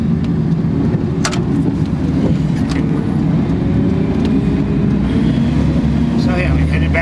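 Steady low engine drone of a municipal public works snow plow truck loaded with sand, driving along snowy roads, continuous and close from inside the cab.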